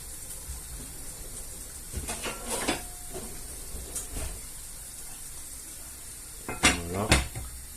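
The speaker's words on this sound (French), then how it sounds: "On va mettre un couvercle et on va mettre au minimum." A lid goes onto a pot of turkey escalope in cream sauce simmering on low heat. Two short metallic clatters with ringing tones rise above a faint background bubble.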